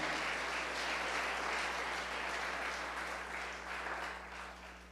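A church congregation claps in praise during a sermon, a dense, sustained wave of applause lasting several seconds with a steady low hum underneath, easing slightly toward the end.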